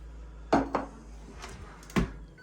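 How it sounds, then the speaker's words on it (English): Pork loin and belly pieces dropped into an air fryer basket, giving a few sharp clattering knocks spaced across the moment, close and fairly loud against a quiet room. "They are now going straight in here into the air fryer."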